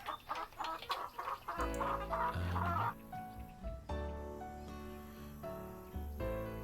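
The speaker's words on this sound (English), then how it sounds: "chicken making weird noises" A chicken in Nancy Drew: Secret of Shadow Ranch makes odd clucking calls in a quick run over the first few seconds. Steady tonal game music with sustained chords follows and carries through to the end.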